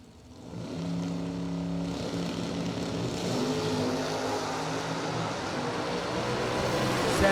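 Drag race cars launch on a run, the roar swelling from a low start into a loud, sustained engine scream that builds steadily and stays close and dense to the end.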